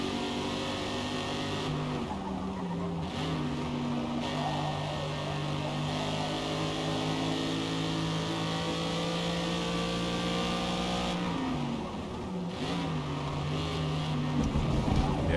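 A BMW E46 race car engine in Forza Motorsport holds a steady, droning tone with a couple of brief dips and rises through gear changes, running continuously under faint background noise.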